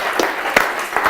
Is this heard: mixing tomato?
no